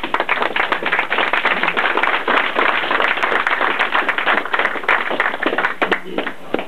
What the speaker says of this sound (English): I think she deserves a wee round of applause